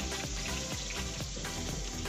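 Quail frying in hot oil, a steady dense sizzle with crackling pops running continuously and fairly loud, with no voices.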